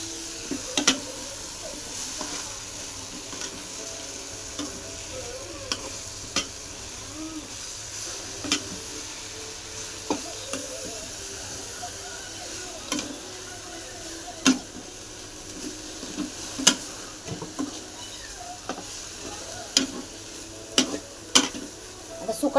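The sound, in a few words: dried small fish (sukat) frying and stirred in a pan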